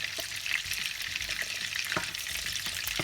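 An egg fries in a pan of butter and oil, giving a continuous close sizzle with soft crackles and spatters, steady throughout and without any voices.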